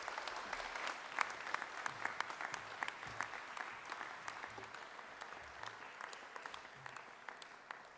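Steady applause fills a graduation ceremony hall for health and nursing graduates, many hands clapping with sharp individual claps poking through a dense crowd wash that fades slightly toward the end.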